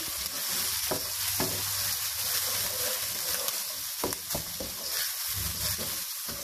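Tomato and yogurt being stirred in a sizzling pan for moong dal, a dense continuous fry with scattered spoon scrapes and knocks, up close and without speech.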